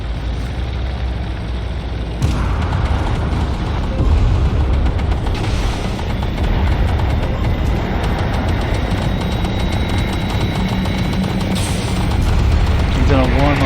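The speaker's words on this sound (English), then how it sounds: "it looks like they're hitting the ground, but they actually hit the target there" Missiles strike the ground in the Armored Warfare video game, a loud, continuous barrage of booming impacts, rumbling engines and gunfire that barely lets up.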